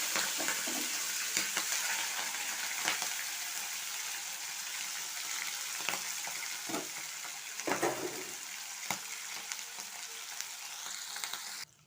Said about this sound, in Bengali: এই দেখুন, চিংড়ি মাছগুলো আমার ভাজা হয়ে গিয়েছে।